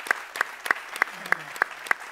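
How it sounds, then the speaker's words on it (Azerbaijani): Sparse claps from an audience honouring guest Ənvər Əbluc at his 75th jubilee, about seven separate sharp hand claps spaced roughly evenly, moderately close, with a brief low hum partway through. "gəlin hamımız bərabər Ənvər müəllimi alqışlayaq"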